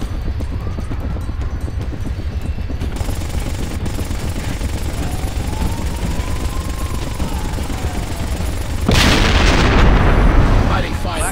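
Gunfire and explosions in the Ghost Recon Advanced Warfighter video game: steady rapid gun bursts under a continuous rumbling battle din, swelling louder near the end, with radio-style voices talking over it.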